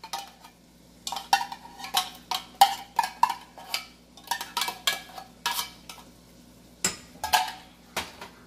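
A spoon stirs cream into sautéed onion in a pan, giving a series of irregular scraping and clinking strokes against the metal, close and crisp, with short pauses between bursts and a low background hum.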